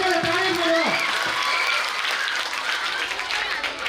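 Applause from the audience at a Gujarati school felicitation ceremony rises over a voice at the start, then continues as a steady broadband patter of many hands for several seconds.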